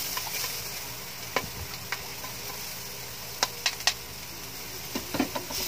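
Garlic frying in a pan gives a soft, steady background sizzle, broken by a few sharp clicks and taps of a utensil against the pan.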